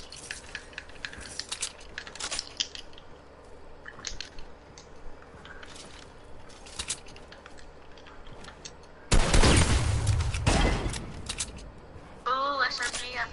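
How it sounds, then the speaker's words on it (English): SMG fire in Fortnite, with scattered sharp shots and clicks early on, then a loud dense burst of automatic fire midway, followed by more shots under a brief voice. "Oh, SMG, I think."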